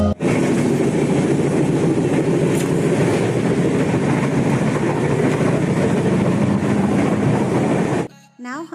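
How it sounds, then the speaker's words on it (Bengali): A passenger train pulls away and rolls along, its steady loud rumble and rattle of carriages heard from on board, continuous for several seconds before cutting off into quieter sounds near the end. "ট্রেনে উঠলাম, ট্রেন ছেড়ে দিল।"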